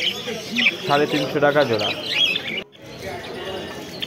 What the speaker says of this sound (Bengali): এখানে যে বদ্রি পাখিগুলো দেখতে পাচ্ছ